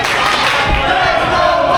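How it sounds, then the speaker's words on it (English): A wrestling crowd chants "Let's Go Barton" during a match between Zakai Living and Cordell and Kris Barton and Devin Carter, a loud, dense roar of many voices filling the arena throughout. "Their Let's Go Barton chants have started."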